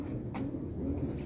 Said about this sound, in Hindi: बहुत अच्छे कबूतर है ये बहुत परवाजी कबूतर है